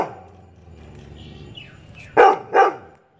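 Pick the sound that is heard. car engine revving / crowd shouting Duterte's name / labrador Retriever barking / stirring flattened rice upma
labrador Retriever barking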